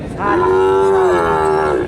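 A Sahiwal bull at a cattle market in Hasokhali, Dhunat, Bogura gives one long, loud, close moo lasting under two seconds.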